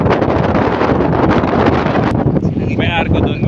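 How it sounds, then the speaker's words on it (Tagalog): Loud, constant wind buffets the microphone in a roaring rumble on Jomalig Island, briefly thinning near the end while a faint voice comes through underneath. "makikita nyo naman gano'ng hangin dito"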